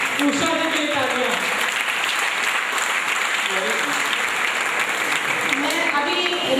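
An audience at a Narayan Reiki gathering applauds in a steady, full wash of clapping that runs throughout, with voices talking over it.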